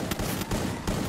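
Gunfire from a shooting video game cracks out in three quick, loud bursts in about a second, close and punchy with no voices over it.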